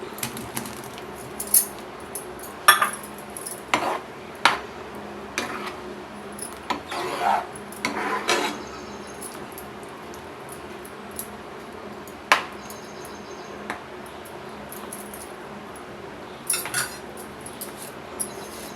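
Potato pieces are dropped into a pot of boiling liquid, followed by scattered metallic clinks and scrapes of stirring against the pot, irregular and fairly close over a quiet background.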